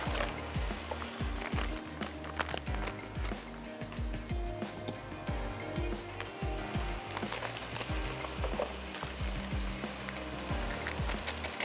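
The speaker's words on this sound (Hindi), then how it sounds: "भुनना शुरू हो रहा है" Minced meat keema frying in a pan with Naseem kachri masala, a dense continuous sizzle with frequent scraping and stirring clatter from the cookware, close up and steady throughout.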